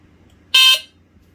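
One short, loud, piercing electronic test beep from a First Alert SA76RS smoke alarm sounds alone for about a quarter second against near silence.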